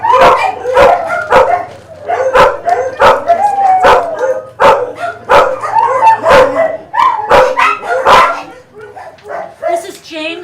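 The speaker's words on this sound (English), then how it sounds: "He's one of the new dogs that just came in." Several dogs bark repeatedly at an animal shelter, sharp nearby barks with yips and a whimper punctuating steady talking throughout.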